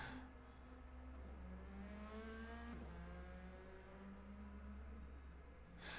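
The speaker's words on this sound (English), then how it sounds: "sounds like we got cars on track here" Race cars on track during a GR3 championship qualifying session: a distant engine whines as it climbs through the gears, with a second car rising and falling as it passes, all quiet over a constant low hum.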